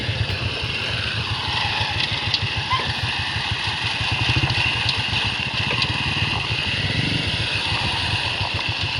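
A motorcycle on a dirt trail, its engine pulsing loud and close at a steady chugging rhythm with slight surges as it lifts into a wheelie.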